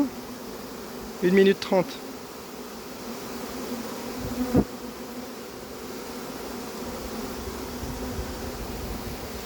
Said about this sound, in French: Avec toutes ces abeilles qui battent le rappel.